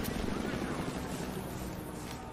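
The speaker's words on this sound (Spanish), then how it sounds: "¿Es un helicóptero o qué?" A helicopter in the video game Rise of the Tomb Raider gives off a steady, loud rotor drone that holds evenly for the whole stretch.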